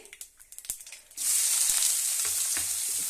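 Chopped onions drop into hot oil for a savory vermicelli breakfast dish, setting off a loud, steady sizzle that starts abruptly after a few faint kitchen clatters and crackles on without talk.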